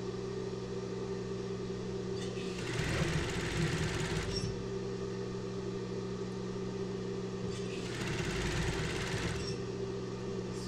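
Domestic sewing machine stitching the waistband hem of boxer briefs, a steady mechanical hum throughout with two louder bursts of fast stitching, each a couple of seconds long, at close range with no talk.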